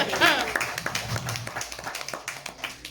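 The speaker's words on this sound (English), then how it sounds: "Give yourself a round of applause." Audience applause at a stand-up comedy gig, a brief burst of clapping, moderately close, with a voice talking over it.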